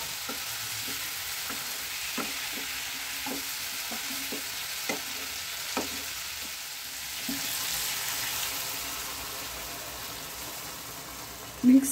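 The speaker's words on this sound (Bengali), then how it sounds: "এবার এতে আমি 1 চা চামচ মিষ্টি দিয়ে দিলাম।" Cauliflower curry fries in a pan with a soft, steady sizzle, broken by a few sharp clicks of stirring and one louder knock near the end.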